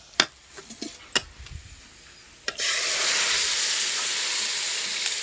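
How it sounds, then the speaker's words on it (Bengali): Chopped, boiled taro leaves hit hot oil in a pan, a few sharp utensil clicks then a sudden steady, loud frying hiss that carries on close by with no talking. "এবার নেড়ে চেড়ে মিশিয়ে নিল"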